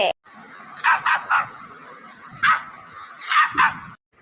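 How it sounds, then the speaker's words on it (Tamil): A dog barks in several sharp bursts, two quick yips early and another cluster later, fairly close and loud over a quiet night background as it chases people running away. "யாத்தடி நாய் ஓடுங்க ஓடுங்க கடவுளே நாய் துரத்துதே"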